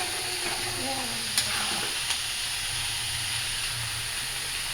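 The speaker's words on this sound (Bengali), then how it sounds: "এই যে তো মাংসটা সুন্দরভাবে আমি কষায় নিছি, আলুও দিয়ে দিছি।" Meat and potatoes sizzle and hiss steadily in a cooking pan, close and fairly quiet, with a couple of brief clinks of stirring.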